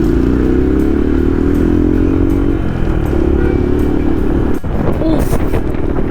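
A motorcycle ridden on a daily commute to college hums steadily with a constant engine drone and wind rush close to the microphone, with a brief rattle and shift in tone near the end.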